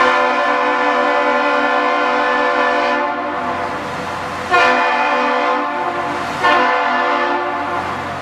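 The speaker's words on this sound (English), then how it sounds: "The bridge answers with its two air horns from locomotives." Two locomotive air horns mounted on a bridge blast loud, sustained chords close by, the tones holding steady and swelling again in repeated long blasts.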